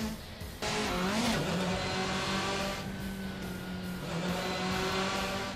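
A race car in the video game Assetto Corsa drones at a steady, loud engine pitch that rises and falls between gear changes, with tire squeal mixed in.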